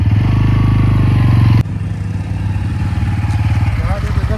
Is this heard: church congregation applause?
no